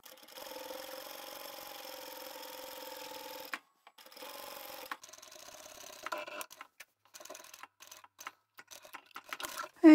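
A sewing machine runs in steady bursts while stitching along an existing seam line on the lining of a large craft bag, the motor whirring close and even before pausing, then giving way to scattered clicks and handling noises.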